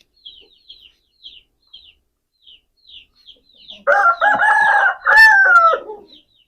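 An Aseel rooster crows one long, loud, close call near the end, with a stuttering rise and a held final note, after scattered faint bird chirps.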